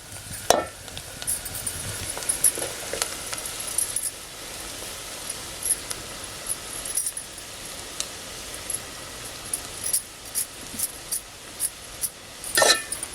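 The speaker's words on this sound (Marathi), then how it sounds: "भाजी चार पाच मिनटं परतून घेऊया" Forest vegetables with onion sautéing in oil in a pan: a steady low sizzle throughout, broken by soft scraping stirs and occasional clicks, with no talking.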